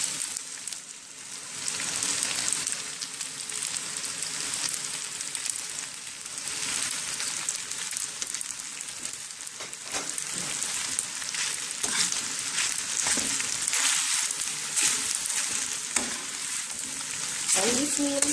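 Tomatoes fry and sizzle in a pan for a spaghetti and tomato dish, with a dense, continuous crackle close by and scraping stirring sounds throughout, and no voices are heard.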